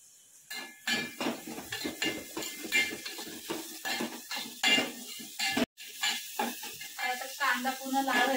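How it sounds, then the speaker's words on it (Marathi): Onions with masala fry in a pot while a spatula scrapes and clinks against the metal in a quick, uneven rhythm over a faint sizzle. "कांदा पूर्ण लाल होईपर्यंत मस्त टोपांना मसाला घालून घेते"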